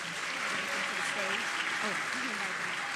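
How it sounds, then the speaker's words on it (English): An audience at a Black Caucus student recognition ceremony gives sustained applause for the students, a continuous wash of clapping with faint voices talking underneath. "Let's give our students a round of applause."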